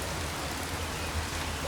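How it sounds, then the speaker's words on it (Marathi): Rain falling steadily outdoors, an even, soft wash of drops on surfaces with no voices, brief and continuous. "आणि पाऊस येतोय"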